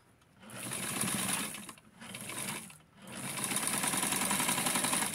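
Sewing machine stitching along the hem of a lined coat sleeve, a close, steady mechanical whir in three runs broken by two brief pauses, the last run longest and continuing to the end.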